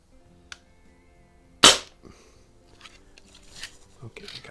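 Crosman 2240 air pistol fitted with a long barrel and no suppressor fires a single sharp close crack, with a quieter click beforehand and faint handling noises afterward.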